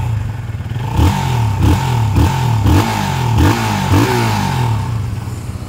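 A Modenas Z15GT motorcycle engine idles and is blipped repeatedly, with a steady mid-pitched thrum and a series of short regular revs, loud and close.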